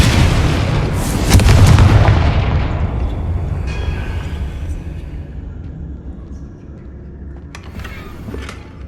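Confringo blasting spell exploding in Hogwarts Legacy, a loud booming blast that swells near the start and then rumbles and decays over several seconds, with faint later crackles.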